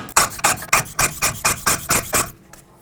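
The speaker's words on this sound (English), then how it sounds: "we want to press this hub and the seal all the way in and seat it" Press being tightened to seat a Ford F-250 rear hub and seal, giving about nine evenly spaced ratcheting scrapes, close and fairly loud, before stopping.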